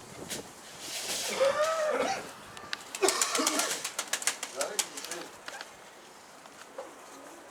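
Pigeons coo and flutter outdoors, with soft cooing calls early on and scattered bursts of wing or movement noise, while people talk nearby.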